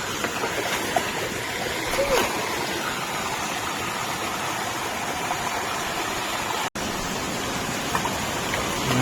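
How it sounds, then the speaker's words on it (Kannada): A stream flows through the Coorg countryside as a steady, moderately loud wash of water, with faint voices nearby. "ಇಲ್ಲಿ ನೀರು ಹೋಗ್ತಾ ಇದೆ"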